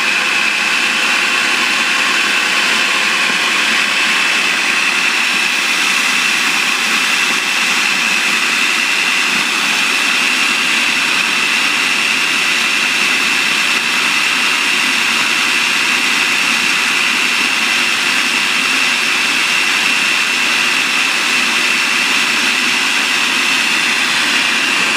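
A loud, continuous mechanical roar of a blender grinding ginger and garlic at high speed, steady and droning throughout with no talking over it.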